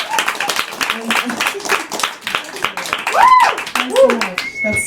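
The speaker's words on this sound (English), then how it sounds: "You don't have to clap." Audience applause at a live poetry reading in a bar, a steady patter of many hands clapping close by, mixed with voices and a brief whistle-like tone.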